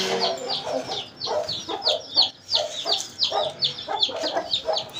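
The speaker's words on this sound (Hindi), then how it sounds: "वो मुर्गी भी शोर मचा रही है बाहर निकलने के लिए" A Chinese hen clucks repeatedly and agitatedly from inside an enclosure, wanting to get out, with bursts of close, rhythmic calls alongside other fowl.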